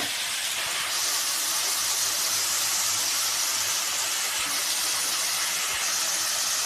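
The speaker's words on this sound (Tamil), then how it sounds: "நல்லா வதங்கட்டும்." Onions with curry leaves sautéing in a pan for a brinjal and dried fish thokku, giving a steady, close sizzling hiss that holds evenly throughout with no talking.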